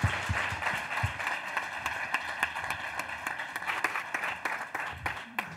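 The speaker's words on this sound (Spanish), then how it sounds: "yo darle un último aplauso a José Antonio Guerrero" A small meetup audience in Madrid claps with distinct individual hand claps for a presenter, a moderate and uneven round lasting several seconds.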